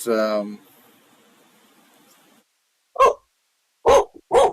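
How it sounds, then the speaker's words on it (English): A dog in a car driving past barks outdoors: three short, sharp barks near the end after a quiet stretch, with a brief voice at the start. "that was a dog in a car driving by"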